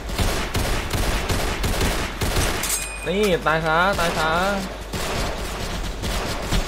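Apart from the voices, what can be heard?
machine gun fire in video game Roblox War Simulator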